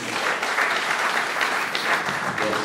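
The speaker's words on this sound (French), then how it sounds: "Je pense que c'est des applaudissements mérités pour l'ensemble des intervenants." Audience applause at a televised debate on the future of the CFA franc in Cameroon, a dense, steady clapping that fills the room and runs evenly throughout without pause.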